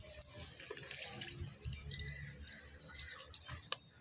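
Water splashes and trickles as rice is washed by hand in a pot at a kitchen sink, soft sloshing and dripping sounds coming close and faint in short bursts.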